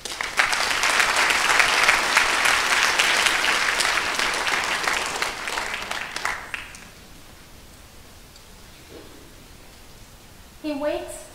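A crowd at a school speech night applauds loudly and steadily for several seconds, then the clapping fades out, followed by a brief voice at the end.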